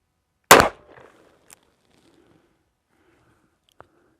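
A Dan Wesson 744-V .44 Magnum revolver fires one sharp, loud double-action shot on an outdoor range; the blast decays quickly into near silence with a faint click later.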